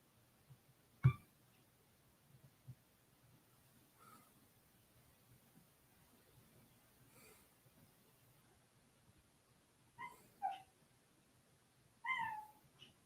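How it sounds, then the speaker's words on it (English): A cat gives short, quiet meows and little squeaks, a single faint call early and then several brief squeaky chirps toward the end, against a near-silent room. "And there's the cat."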